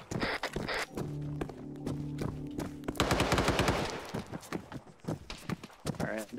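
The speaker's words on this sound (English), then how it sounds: "I think we're getting shot at from somewhere far" Far-off gunfire in an Arma Zeus op, a shooter game, crackles in repeated bursts and rapid volleys, mixed with mechanical hums and steady background game noise while players talk over it.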